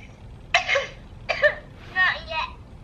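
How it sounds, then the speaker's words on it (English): A person lets out a few short coughs close to the microphone, three separate bursts spaced about a second apart, the last rougher and more drawn out, with no other sound around them. "Conveniently coughing right now."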